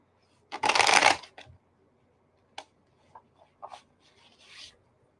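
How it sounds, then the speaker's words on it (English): Playing cards are riffled in one dense burst near the start, followed by a few soft taps and light rustles as they settle during a live card-reading session. "These cards are starting to shuffle."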